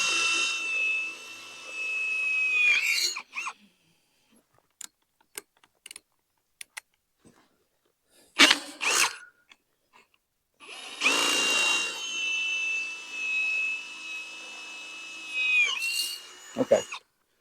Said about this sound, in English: we're going to drill a hole in this post